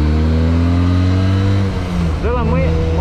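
A Harley-Davidson X 350 motorcycle engine hums loud and close at steady revs, then drops off and picks up again with a rising, wavering note.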